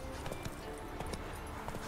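Horse hooves clip-clop in an even trotting rhythm in the Witcher 3 video game, close and steady over a dense game-world backdrop, with no talk.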